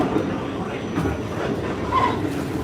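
A New York City subway train rolls along with a loud, continuous rumble and rattle, faint wheel squeal rising briefly over the steady car noise.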